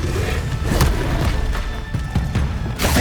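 An Incendio fire spell cast in Hogwarts Legacy lands as a loud, booming whoosh with thudding impacts, several bursts within a few seconds over a steady rumbling background.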